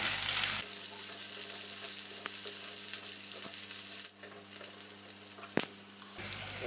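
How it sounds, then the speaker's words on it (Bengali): Chopped onion and garlic fry in a pan, a steady close sizzle broken by a few sharp clicks of stirring and a brief dip as the pan is moved. "পেঁয়াজটা ভাজা ভাজা হয়ে গেছে।"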